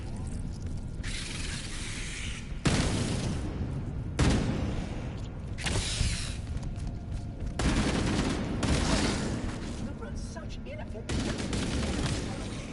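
Steady assault rifle gunfire in the Halo Campaign Evolved video game, with sustained bursts of automatic shots and booming impacts running almost the whole time, joined by brief bits of game chatter.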